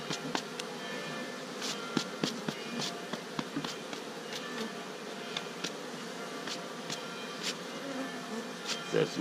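Honey bees buzz around an open beehive, a dense continuous hum close by with individual bees darting past in brief louder passes.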